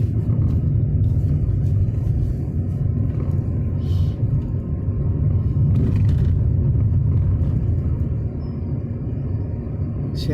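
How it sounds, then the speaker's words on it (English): Cars passing on a road during a driving lesson, heard as a steady loud engine rumble and tyre roar from nearby traffic, with brief louder swells as vehicles go by and no talk. "lots of cars on the right."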